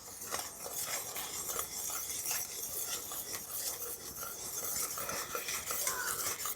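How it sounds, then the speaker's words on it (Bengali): Sugar and orange juice stirred in a pan as it boils, a steady scraping and swishing of the spoon with a faint bubbling hiss, close and continuous with no talking. "চিনি আর কমলা লেবুর রস দিয়ে এইভাবে কিন্তু একটু ধৈর্য ধরে নাড়াচাড়া করে ফুটিয়ে নিতে হবে"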